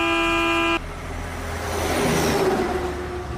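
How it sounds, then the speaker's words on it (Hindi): A loud truck horn blares in a sound effect for a ghost story on a ghat road. One sustained blast cuts off abruptly, and a heavy engine roar swells and passes close by. "तभी उन्हें पीछे से एक ट्रक की तेज हॉर्न सुनाई देती है"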